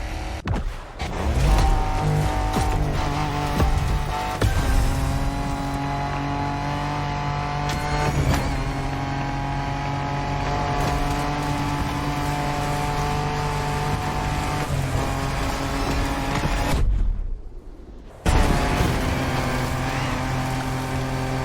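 An off-road race car in the video game The Crew Motorfest roars continuously close up, its engine revving and droning with shifting pitch, cutting out briefly for a moment before surging back.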